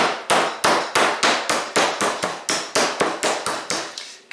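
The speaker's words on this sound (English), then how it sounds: "So I'll finish pounding the other pieces out and then I'll come back." Chicken breast pounded thin with a meat pounder for chicken piccata: about thirteen loud, close, evenly spaced thuds in a steady rhythm, with no talking.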